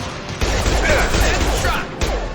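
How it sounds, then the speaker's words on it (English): A concussive shot fired in the video game Mass Effect 2, a loud, dense burst of combat noise with several sharp impacts over about two seconds, mixed with other gunfire and explosions. "Firing concussive shot."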